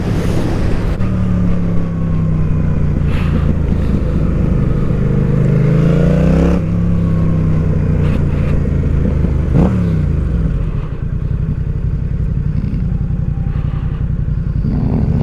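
A Yamaha MT-07 motorcycle being ridden and accelerating hard, its loud, close engine note climbing and dropping through gear changes, with steady wind rush throughout.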